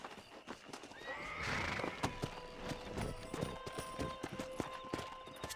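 A horse in the Red Dead Redemption video game whinnies loudly, then its hooves clip-clop in a steady walking rhythm close by, with no talking.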